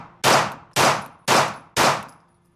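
Four loud Sig pistol shots fired right-handed in a steady, rapid rhythm, each a sharp close blast trailing into a brief ringing decay, with no voices.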